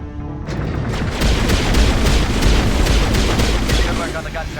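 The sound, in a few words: gun firing shots from video game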